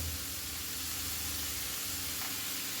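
A spiced vegetable mixture of peas, turmeric, chilli powder and chopped green chilli is stirred in a hot pan, giving a faint, steady sizzle and hiss with no voices.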